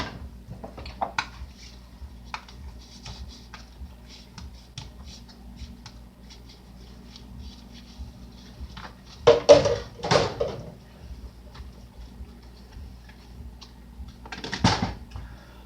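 Quiet clinks and scrapes of dishes being handled, with a few louder clattering bursts of plates and cutlery knocking together.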